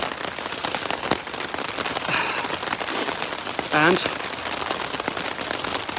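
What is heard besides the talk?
rain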